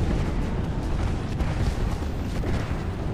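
Dense, continuous rumbling explosions from an airstrike in Apex Legends, a steady roar of overlapping blasts that holds at a loud level for the whole stretch with no clear gaps between impacts.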